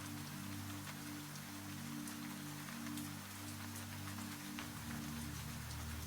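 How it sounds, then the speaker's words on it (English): Steady rain patters against window glass in a continuous, even wash of drops with a low hum beneath, no voices. "listen to the rain against the glass"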